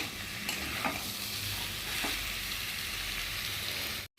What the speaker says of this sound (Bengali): টমেটোর সাথে মশলাটা সুন্দরভাবে কষিয়ে নেবো যতক্ষণ না অবধি টমেটোটা গলবে